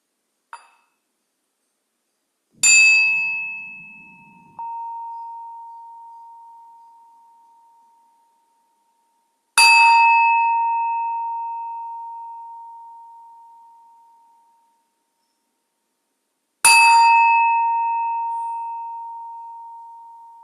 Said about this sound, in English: please listen to the sound of this bell, which I'll invite for you to ring 3 times